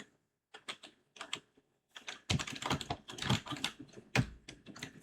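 Typing on a computer keyboard, close and quiet, starting with sparse separate key taps and then turning into fast, dense bursts of clacking with short pauses between them.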